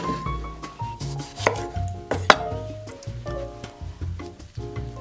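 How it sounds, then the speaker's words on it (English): Knife chopping cored tomatoes roughly on a board while making salmorejo in a home kitchen, a quick run of close, fairly loud thuds in an uneven rhythm. "Remove the core, chop it up rough, and we'll start putting this directly in the blender."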